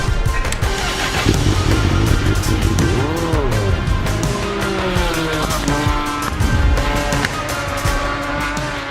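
A Honda Fireblade SP racing motorcycle screams around the Cadwell track, its engine revving and shifting through gears with rising and falling whine, loud and continuous throughout.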